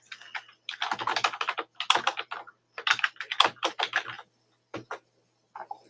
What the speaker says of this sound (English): Type in the name of the hello world event.